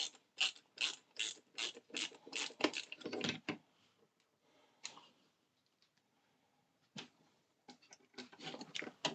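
Small E-screws being driven by hand into a plastic model panel, heard as close, quiet bursts of rapid ratcheting clicks in several short runs with pauses between them.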